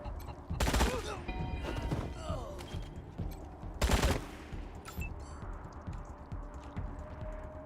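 Gunfire in Wasteland 3, two loud bursts of rapid shots a few seconds apart, with smaller game effects and faint chimes between them.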